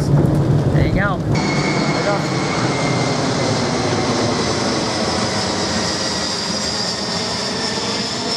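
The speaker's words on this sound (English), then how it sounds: "There's an Air National Guard base right down the street from us, and sometimes some big planes go in. I believe that was a C-17." A C-17 military transport plane flies low over a neighborhood near an Air National Guard base at night, a loud, steady roaring rumble that fills the whole stretch after a brief onset.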